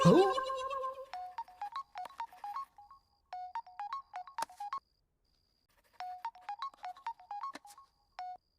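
A phone ringtone for an incoming call plays as repeated bursts of short electronic tones in a steady pattern, with pauses between groups, after a brief voice at the start.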